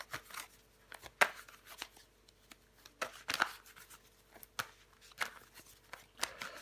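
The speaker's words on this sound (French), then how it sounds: "Je vais recouvrir des cartes pour vous les poissons." Tarot cards are laid out and handled on a table, producing soft scattered flicks, slides and taps at close range, faint and intermittent, with no one speaking.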